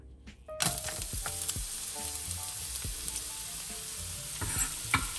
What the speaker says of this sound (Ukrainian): І смажимо її до напівготовності.